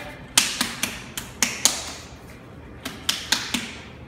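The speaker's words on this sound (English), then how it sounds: "now I'm going to take my dark cypress, I'm going to shake it up" A bottle of dark cypress concrete colour shaken by hand gives sharp, close rattling knocks in two bursts of about five strokes each, with a short pause between them.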